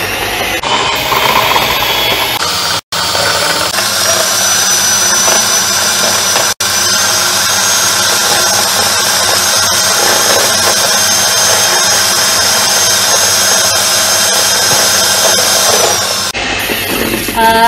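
Electric mixer whirring steadily and loudly while mixing batter for a rainbow pudding cake at a live baking demo, a high-pitched motor whine running almost unbroken with two brief cutouts.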